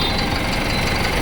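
Cars and truck engines rumble steadily in a traffic jam at a toll gate on an Indian highway, a dense, continuous low drone of idling motors close by, with no voices.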